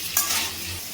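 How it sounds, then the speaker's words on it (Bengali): Salted papaya and potato pieces fry in a kadai, a brief burst of stirring followed by a soft, even sizzle close by. "পেঁপে আর আলুটাকে একদম সুন্দর করে লাল করে ভেজে নেব।"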